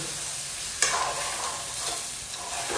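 Chicken pieces fry in hot oil in a pan, a steady close sizzle with a sharp crackling burst as the meat is stirred, continuing without voices.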